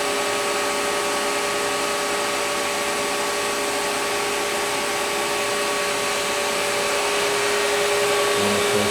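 A Dadson DS1342-KM CNC knee type gun drill hums loudly and steadily while drilling a hole, a continuous broadband machine roar with tonal whine that holds unchanged throughout.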